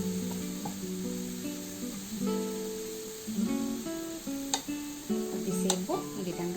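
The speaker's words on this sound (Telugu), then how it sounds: "లో ఫ్లేమ్లో పెట్టుకొని ఫ్రై చేసుకోవాలి." A carrot halwa mixture fries slowly on a low flame in a pan, giving a soft continuous sizzle under steady tonal sounds, with occasional stirring clicks.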